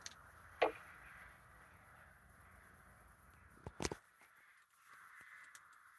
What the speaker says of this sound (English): that loud noise is crows